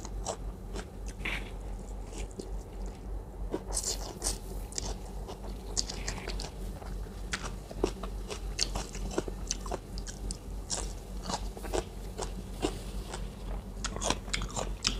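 Crunchy pork cracklings being bitten and chewed together with rice noodles, close and loud, with repeated sharp crisp crunches and steady chewing throughout and no talking.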